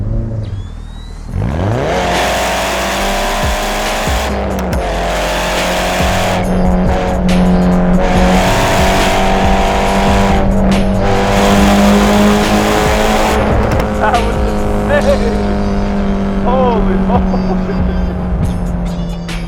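A Nissan S15 Silvia with a full titanium exhaust revs hard and roars, echoing in a tunnel, with rising and falling pitch and crackling pops from the exhaust.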